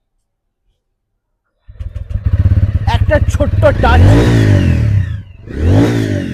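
A TVS Ronin motorcycle engine starts and revs up loudly, with rising and falling throttle bursts, after a quiet start and a brief spoken phrase.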